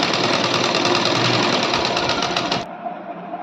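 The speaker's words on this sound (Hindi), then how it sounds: "इस तरीके से हम इसको सिल लेंगे" A sewing machine stitches a blouse in a steady, rapid run of needle strokes, loud and close, then stops abruptly near the end, leaving only faint room noise.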